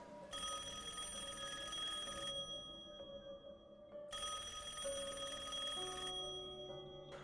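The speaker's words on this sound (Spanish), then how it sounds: "Estaba sonando el teléfono." An old-style telephone bell rings loudly in two long, steady bursts with a short gap between them, used as a sound effect in a Spanish-language audiobook, with no speech.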